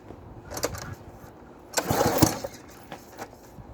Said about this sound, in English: I'm just going to fire it up just so I can pull the cylinder back and then shut it off